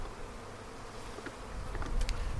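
Honey bees buzz steadily at an open hive, a soft continuous hum that swells slightly louder toward the end, with occasional individual bees passing close.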